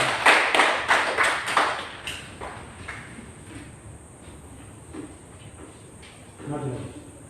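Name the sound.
classroom clapping hands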